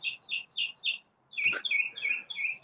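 Small birds chirp nearby in quick, bright, repeated tweets, a short series before and after a brief dull thump.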